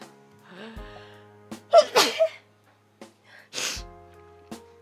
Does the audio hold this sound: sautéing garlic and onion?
no